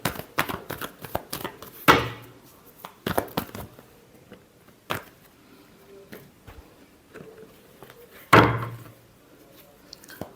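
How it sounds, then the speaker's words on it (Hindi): Tarot cards being shuffled, several sharp riffling bursts and slaps separated by quiet pauses, close and loud. "Last shuffle."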